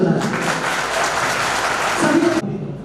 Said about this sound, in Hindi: मैं चाहता हूँ जय साहब के लिए आप लोग एक बार पुनः जोरदार ताली बजाएं।